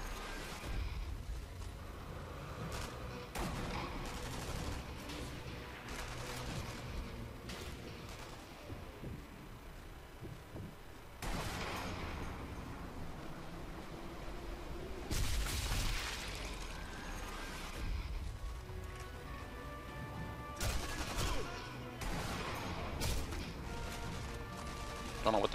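Sniper rifle fire in Sniper Elite V2, sharp broadband shots and booms scattered through a dense game soundscape with music and effects, several loud bursts near 11, 15 and 21 seconds.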